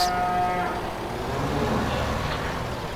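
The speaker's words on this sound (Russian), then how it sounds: "коровки какие-то мычат" Cattle moo in the Farming Simulator 15 farming game, one loud, drawn-out low call rising over a steady background hum, with no talking.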